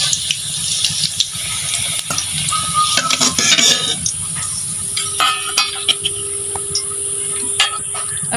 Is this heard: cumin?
yes